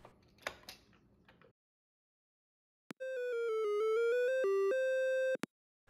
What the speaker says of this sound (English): Oh, that's a cool little tune.